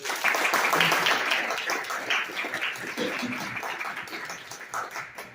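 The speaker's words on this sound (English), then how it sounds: "let's give them a round of applause" Audience applause for event co-sponsors at a historic marker program, a dense, steady clapping texture filling the room and slowly tapering over several seconds.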